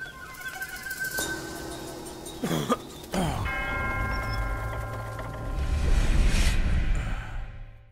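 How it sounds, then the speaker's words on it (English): A temple bell in the video game Black Myth: Wukong is struck several times, each strike ringing out with a sustained metallic tone that layers and decays, followed by a swelling low ambient rumble. "Well, here's a third bell."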